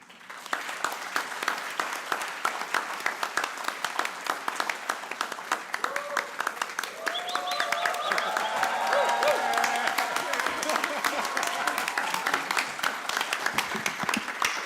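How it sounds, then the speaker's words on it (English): Sustained audience applause fills a convocation hall, dense steady clapping from a large crowd that swells slightly midway and continues throughout, with faint voices mixed beneath. "thank you so much for the applause"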